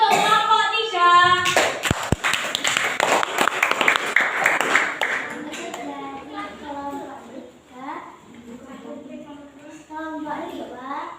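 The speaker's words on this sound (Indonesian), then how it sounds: "Oke, beri tepuk tangan untuk kelompok" Classroom group of children claps in a short burst of hand clapping after a group presentation, then children's voices and talking take over as the clapping fades.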